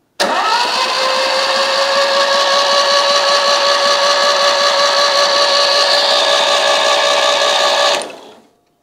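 A Citroën Méhari/2CV engine is cranked over continuously for about eight seconds, a loud, even whirring drone that cuts off abruptly and fades out.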